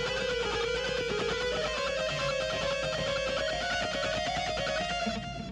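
An electric guitar plays a song solo from Kantara as a continuous, gliding lead melody with bends and rapid picked notes over a busy sustained backing, steady and fairly loud throughout.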